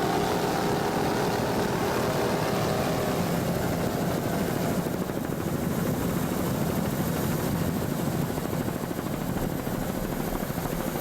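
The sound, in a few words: offshore racing powerboat engines throttling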